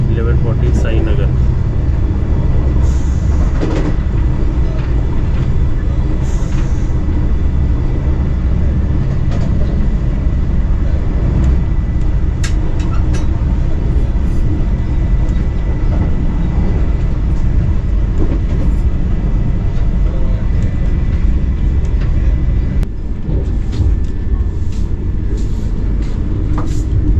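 Interior of a Vande Bharat Express train running from Mumbai to Shirdi: a continuous low rumble with rail noise and faint clicks throughout, with people talking over it.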